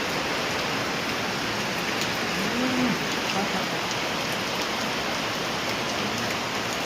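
Heavy rain pouring down outdoors, a dense steady roar of drops on surfaces with no breaks, a faint voice barely present beneath it.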